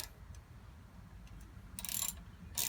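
Bolts on an aluminum handlebar riser of a Honda NC700X being tightened, faint soft ticking clicks and a couple of brief bright metallic bursts near the end over a low background hum.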